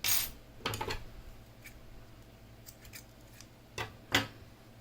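Scissors snip yarn while an amigurumi bunny is being crocheted, giving several sharp, close metallic clicks in small bursts with quiet pauses between them and no talking.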